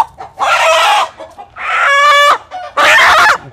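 Yellow Chinese chickens (gà tàu vàng) call loudly and close in three bursts, including a rooster-like crow in the middle, separated by short gaps with faint scuffling.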